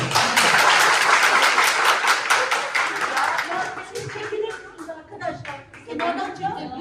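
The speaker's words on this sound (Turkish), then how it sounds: "Alkışlarınız var" Applause from a small crowd, loud at first and then thinning into scattered claps with some murmuring and light laughter.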